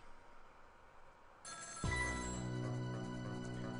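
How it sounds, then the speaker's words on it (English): A telephone bell in the video game Ghost Trick: Phantom Detective begins ringing loudly and keeps ringing steadily, electronic and close, with no voices. "Every time that phone rings, it's bad news bears."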